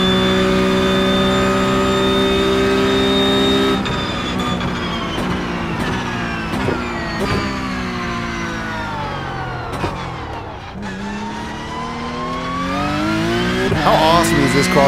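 A race car engine in the iRacing video game revs hard, its tone climbing and dropping through repeated gear changes with brief shifts, loud and close and steady throughout.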